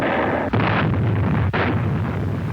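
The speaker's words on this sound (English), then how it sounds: "Mount Suribachi, which dominated the island, was a prime target for Navy gunners." Naval gunfire pounding an island beneath Mount Suribachi in archival war footage, heard as a steady, heavy rumbling barrage with two sharp bursts cutting through, loud and continuous with no voices.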